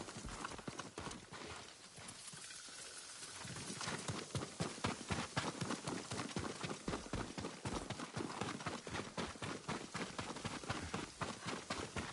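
Rapid, rhythmic clip-clop of horse hooves in Ghost of Tsushima, loud and close, quickening into a steady trot after a quieter opening.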